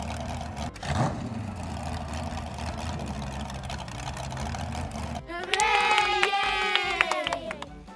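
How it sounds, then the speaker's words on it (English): A small two-stroke weed eater engine starts partway through and runs loudly, its high buzzing pitch rising and falling as the throttle is worked, following a quieter stretch of steady background rumble and faint talk. "it's time to start the weed eater"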